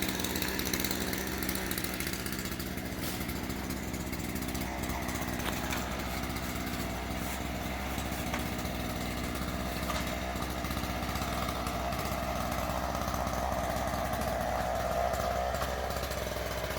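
A power saw trims a tree in a yard, its motor droning steadily for the whole stretch at a constant pitch, moderately distant and with no pauses.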